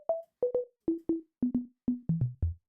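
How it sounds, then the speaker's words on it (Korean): Short plucky sine-wave synth notes with chorus, built in Serum 2, play alone in a descending pattern of about fifteen clean blips in pairs and singles, stepping lower in pitch toward the end. "기본적으로 그냥 사인파에다가 이 엔벨로프를 플럭 느낌으로 되게 짧게 만들어주고 코러스 하나 걸어서 만들어준 거고요"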